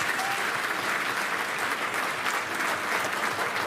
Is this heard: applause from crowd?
yes